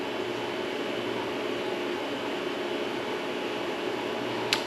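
A steady mechanical hum and whir of a freeze dryer drying apples, running continuously nearby, even and unchanging throughout.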